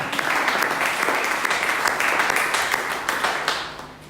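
A church congregation applauding, a steady dense wash of many hands clapping for several seconds, loud and close, then easing slightly toward the end.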